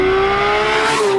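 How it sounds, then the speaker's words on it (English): A Porsche 911 GT3 with 500 horsepower, a 9,000 RPM limit and an aftermarket JCR exhaust holds a loud, close, raspy engine note that stays steady and then dips slightly at the end. "Harry's added a JCR exhaust to it, and I wish you were here to listen to it in person because it's pure race car. It's so loud"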